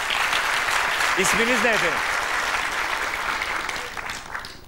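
Studio audience applause, a dense steady clapping that fills the clip and fades slightly toward the end, with a voice speaking briefly over it partway through.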